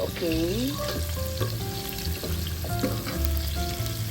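Chicken curry frying in a pan, a loud continuous sizzle with utensil clinks and stirring scrapes, close up; a short spoken word is heard briefly.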